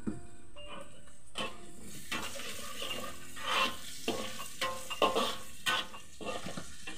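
Onions frying in a pan, a quiet background sizzle broken by repeated scraping and clinks of a utensil stirring against the pan.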